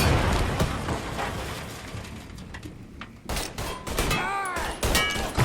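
Mafia 3 video game gunfire, a dense continuous volley of shots with booming impacts under an ongoing battle din, loud and close, with a few brief vocal sounds near the end.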